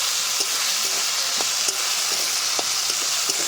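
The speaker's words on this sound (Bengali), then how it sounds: "এবার আগে এগুলোকে একটু ভেজে নেব" Young jackfruit pieces with chopped tomato and a pinch of salt frying in a pan for a Bengali vegetarian curd-jackfruit curry; a steady close sizzle with occasional clicks of stirring, no voices.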